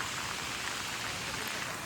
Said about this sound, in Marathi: आणि पुन्हा पाऊस आता जोरदार सुरू झालेला आहे